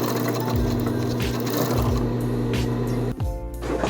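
A sewing machine runs fuchsia viscose binding around dog clothes with a close, steady mechanical whir of rapid stitching, then slows and stops near the end, with no talking.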